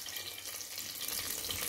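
Curry leaves sizzle and crackle in hot sesame oil in a pressure cooker, a faint, steady hiss of frying that lasts the whole short moment.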